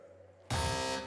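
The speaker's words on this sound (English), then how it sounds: "Fingers on buzzers." Game show buzzer on a quiz show sounds once, a loud sustained electronic buzz that cuts in abruptly halfway through and holds to the end.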